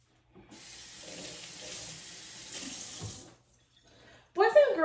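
Water runs steadily from a tap onto folded paper towels for about three seconds, a soft broadband hiss that then stops, followed by a brief louder clatter at the end.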